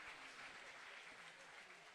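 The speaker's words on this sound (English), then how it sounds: "one more round of applause" Distant crowd applause at a wrestling event awards ceremony, a steady patter of many hands clapping throughout, fairly faint and even.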